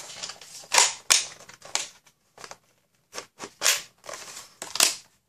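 Nerf Rival Kronos XVIII-500 blaster being loaded with foam rounds, giving a string of sharp, close plastic clicks and snaps in irregular bursts with short pauses between, no talking.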